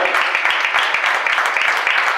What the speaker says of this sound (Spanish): Denle la palabra del Señor un fuerte aplauso